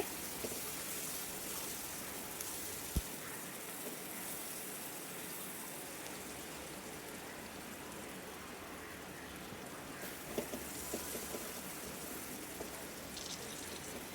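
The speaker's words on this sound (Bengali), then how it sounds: "পেঁয়াজ রসুনটা বাদামি কালার করে নিচ্ছি।" Onion and garlic fry in oil while being browned, giving a steady, moderate crackling hiss that runs throughout, with a few sharp clicks from the pan.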